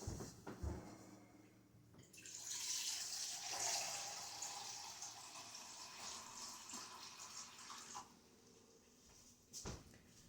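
Water streams from a tap for several seconds, splashing faintly into a container, with soft clicks at the start and end.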